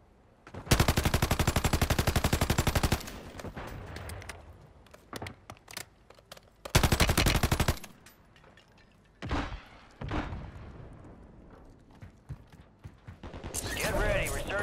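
Custom weapon fire in a shooter video game: two long, loud automatic bursts followed by scattered single shots and thuds, with game voice lines in between.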